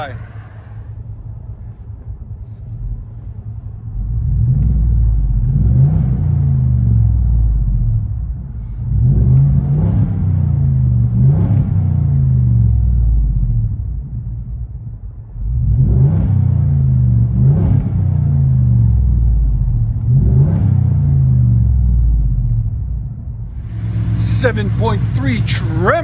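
Heard from inside the cab of a nearly new 2021 Ford F-350 Tremor, its gas 7.3-litre V8 with a Black Widow Widowmaker exhaust rumbles and revs in several long surges, loud but muffled, settling to idle between pulls.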